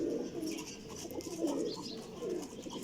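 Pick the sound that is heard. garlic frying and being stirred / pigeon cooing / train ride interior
pigeon cooing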